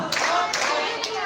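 Children at a storytelling session clap in a one-two pattern, three crisp near claps spaced evenly, with young voices chanting along underneath.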